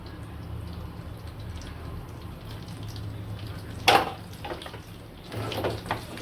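Fresh curry leaves dropped into hot oil in a nonstick pan for a millet dosa chutney give a sudden loud sizzling burst, then lighter crackles and a low steady hiss.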